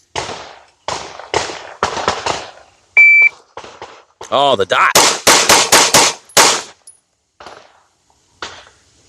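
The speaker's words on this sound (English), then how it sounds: "But we're gonna try and do a quick build drill and see how flat the guns shoot." A shot timer beep followed by rapid strings of loud, sharp gunshots from Sig P320 pistols fitted with compensators during a quick drill on a range, with a shooter talking briefly between strings.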